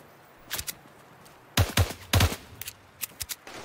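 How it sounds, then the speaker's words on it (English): Enemy gunfire in the video game Fortnite: several sharp bursts of shots, a few scattered ones early, then two loud clustered volleys in the middle and softer isolated shots toward the end, with no talking. "That guy's trying to shoot at me."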